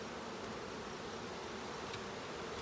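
Honey bees from an opened hive hum in a steady, dense buzz that stays even and fairly quiet throughout, with no voices.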